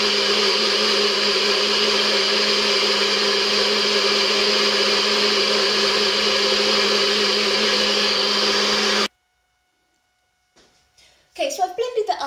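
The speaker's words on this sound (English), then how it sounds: "you could do this with your stick blender, some sort of other blender that you've got, and now I'm just going to blitz it together" A stick blender runs steadily at high speed, blitzing titanium dioxide into a premix for cold process soap, a loud continuous whirring drone that cuts off abruptly, followed by faint rustling and handling noises.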